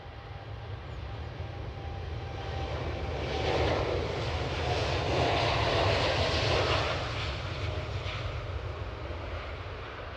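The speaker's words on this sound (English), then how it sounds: "Air Canada off with their Dreamliner 9 to Toronto." An Air Canada Boeing 787 Dreamliner taking off at Edinburgh Airport, its jet engine roar rising and swelling to a broad peak midway before easing off, heard from a distance outdoors with no talk.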